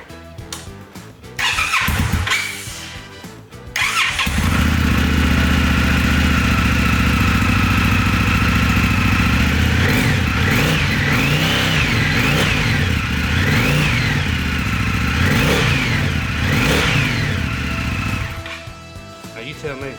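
An Indian FTR motorcycle fitted with a Sawicki Speed aftermarket slip-on exhaust starts with a short burst, then idles loudly and revs repeatedly. The deep exhaust note rises and falls in pitch at close range for about fifteen seconds.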